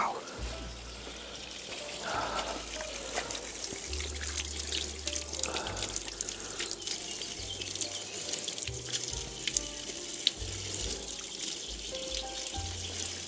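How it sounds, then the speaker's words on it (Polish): Water trickles and splashes steadily from a natural spring in a former landscape park in Poland, with occasional voices murmuring nearby over the continuous flow. "Tutaj mamy żywą wodę."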